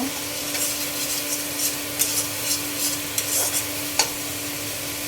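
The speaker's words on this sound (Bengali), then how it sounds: "এখন এটা ভালোভাবে কষিয়ে নিব" Spices sizzle in a pan while a utensil scrapes and stirs in uneven strokes, with a few sharper clinks against the metal.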